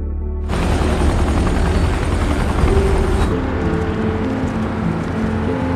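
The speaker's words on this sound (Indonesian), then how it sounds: "Tiga helikopter itu kemudian meminta izin kepada Komandan Luo Feng untuk lebih dulu pergi ke zona aman." A loud, steady helicopter roar with a throbbing rotor drone fills the whole clip, close and continuous, with no talking.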